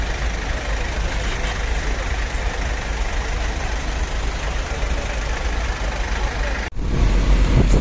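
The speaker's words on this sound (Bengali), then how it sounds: "অনেক জ্যাম রাস্তাঘাট, অনেক জ্যাম" Congested road traffic in Dhaka during the cattle-market rush: a continuous, fairly loud wash of idling and moving engines, trucks and buses, with no clear voices, growing slightly louder near the end.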